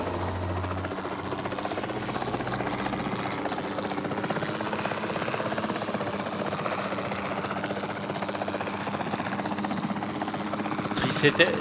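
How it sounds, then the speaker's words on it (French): A helicopter in the video game Jurassic World Evolution 2 gives a steady, loud, continuous rotor and engine drone that holds without a break for the whole stretch. "donc on va reprendre l'hélico"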